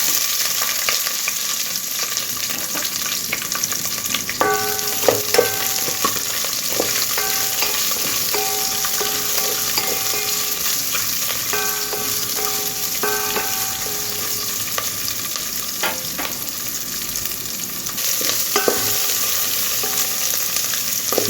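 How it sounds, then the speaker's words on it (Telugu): Dried red chillies, garlic and chopped onions fry in oil in a pan, giving a loud, continuous sizzle broken by repeated scraping and clinking stirs of a utensil against the pan. "ఎండుమిర్చి, వెల్లుల్లిపాయ ఇవన్నీ కూడా వేసేసుకొని వేపుకుందాము."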